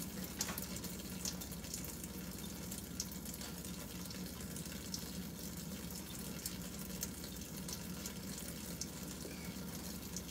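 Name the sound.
water running from a tap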